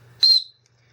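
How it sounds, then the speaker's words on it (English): A single sharp, shrill blast from a plastic safety whistle built into a backpack sternum strap, loud and brief, lasting under a quarter second against near silence. "a sternum strap with a built-in whistle, very loud whistle actually"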